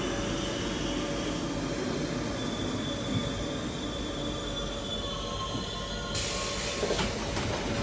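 A Paris metro train sits at Saint-Michel Notre-Dame station with a steady mechanical rumble and faint wheel squeal. A sudden bright hiss and clatter bursts in near the end.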